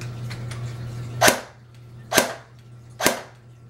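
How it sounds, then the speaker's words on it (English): A toy gun with its tracer unit switched on fires three sharp, snappy cap-gun-like shots about a second apart, close and distinct over a low steady hum. "I'm just going to turn just the tracer on and attempt to fire the gun again"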